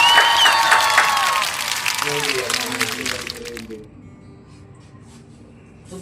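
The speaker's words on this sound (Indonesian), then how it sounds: "Gimana tepuk tangannya?" Audience applause on a talk show, loud clapping and cheering for about three seconds before fading into quieter room sound with a few low voices.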